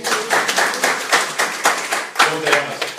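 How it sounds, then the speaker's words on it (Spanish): An audience at a sermon claps in a loose, rhythmic run of distinct hand claps, close and fairly loud, with faint voices mixed in. "Haz un aplauso."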